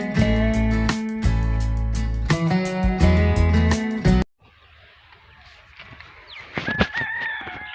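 Chickens and a rooster on a chicken farm, with loud, harmonically rich crowing and calls for about four seconds, then a quieter stretch of scattered clucks and chirps.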